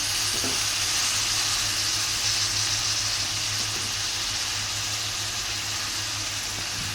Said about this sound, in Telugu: ఇప్పుడు టమాటా కొత్తిమీర అనేది వేసేసుకుందాం.